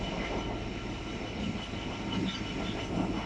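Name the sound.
train wagons passing at Tunbridge Wells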